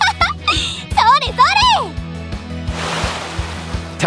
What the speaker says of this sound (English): Chisa stood in knee-deep waves, kicking and splashing water in my direction